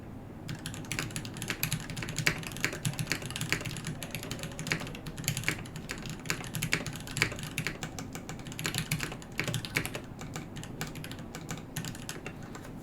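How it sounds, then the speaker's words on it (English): Continuous typing on a KBD8X MkII mechanical keyboard with a top-mount aluminium plate, a close, steady stream of overlapping key clacks with uneven rhythm and occasional louder strikes. "The top mount sounds a lot nicer."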